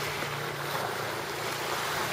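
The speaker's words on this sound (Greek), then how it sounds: "Φυσάει και λίγο και δεν μπορώ, μου παίρνει την πετονιά από το χέρι" Wind blows hard at the seaside, where someone is heavy-casting with a fishing line. It makes a continuous loud roar and buffets the microphone, with the wash of surf underneath and no pauses.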